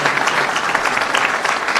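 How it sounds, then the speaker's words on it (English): A crowd applauds a governor at an announcement event in a school, steady clapping filling the space, loud and sustained without talk. "Let's have another round of applause for our Governor, Phil Murphy"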